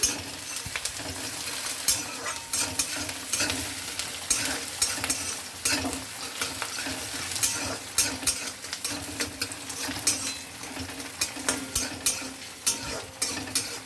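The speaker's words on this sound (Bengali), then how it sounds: "একটু মূলো ভেজে নিচ্ছি" Radish fries in a pan while being stirred, a dense sizzle broken by rhythmic scraping and clinking of a spatula against the metal, close up and with no voices.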